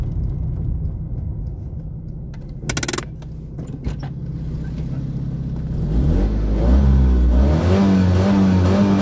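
Alfa Romeo 75 engine running with a low steady rumble, then revving up loudly near the end, with a brief metallic jingle partway through.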